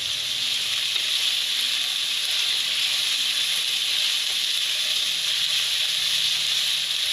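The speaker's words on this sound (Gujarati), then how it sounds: "હવે બધી વસ્તુ આપણે તેલમાં સડી જવા દે." Upma ingredients sizzle steadily in hot oil in a pan, a continuous close hiss with no breaks and no one talking.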